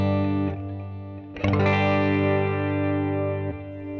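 Electric guitar played through a Fender Mustang GT amp with delay, sustained chords ringing with harmonic-rich distortion, a fresh strum near the middle and a softer one near the end, repeats trailing off.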